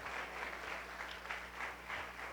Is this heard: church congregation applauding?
yes